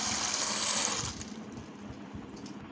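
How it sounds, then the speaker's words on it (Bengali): Sago pearls are poured into a bowl of water, making a loud rushing, hissing pour for about a second that drops to a faint, settling trickle, close by with no talk. "এই জলের মধ্যে আমি 2 বাটি সাবুদানাগুলোকে দিয়ে নেব।"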